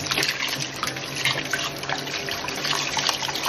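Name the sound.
running fresh tap water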